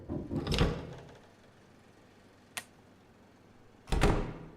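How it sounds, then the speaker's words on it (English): Knocking and door sounds at a front door in the horror game Static Dread: a thumping burst, a single sharp tap, then a second heavier burst of knocks, moderately near against a quiet room tone. "I think I heard someone at the door this time."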